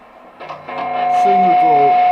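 An Ibanez RG470AHZ electric guitar played through its humbucker pickup: a few plucked notes build into a loud, sustained chord that rings steadily and close, with no talking.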